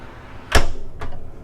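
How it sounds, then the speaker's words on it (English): A cabin door aboard a 2021 Riva Folgore 88 yacht thuds shut with one firm, close impact, followed by a softer second knock or latch click about half a second later. "That's the door back out onto the main passageway."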